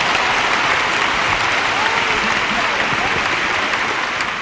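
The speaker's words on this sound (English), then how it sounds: "Clap your hands for Jesus." A large audience claps hands together at a religious healing service in Madison Square Garden, producing dense, sustained, loud applause that fills the whole stretch without letting up.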